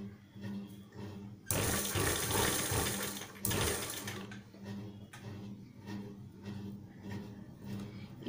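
A sewing machine stitches piping onto a blouse sleeve, its motor whirring in two loud bursts, close, with a quieter mechanical hum between the runs.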